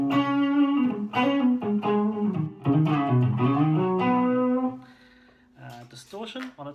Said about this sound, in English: Bit of overdrive.